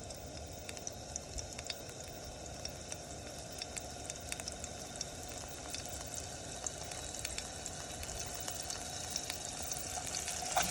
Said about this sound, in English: And once that sizzling happens, do you hear that? It's starting to happen. It's getting nice and hot.